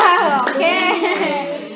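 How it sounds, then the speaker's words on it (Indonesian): Applause for a presenter during an online class meeting: a burst of hand clapping mixed with bright, excited voices, steady and fairly loud across the whole short stretch. "kita kasih tepuk tangan dulu buat Haindi."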